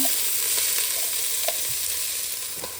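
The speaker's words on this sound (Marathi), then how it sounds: "आता टाकते मी खडे मसाले कांदा" Whole spices and finely chopped onion frying in hot oil in a pot, a loud, continuous hiss with a few light stirring clicks, close up and without voices.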